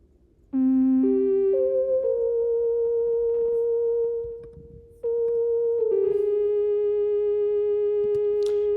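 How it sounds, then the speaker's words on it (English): A smooth, pure-toned synth gliding between sustained pitches like a theremin, stepping up and sliding down, pausing briefly before resuming. "kind of like a theremin type synth, which sounds like this."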